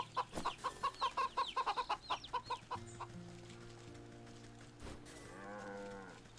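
Cow in the Wytchwood video game mooing in a run of loud, rhythmic calls near the start, then quieter sustained tones with a faint cluck-like flutter toward the end; no one speaks.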